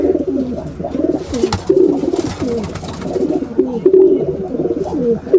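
Pigeons coo close by in a steady, rolling rhythm of repeated throaty calls that stays loud and near throughout, with faint background noise.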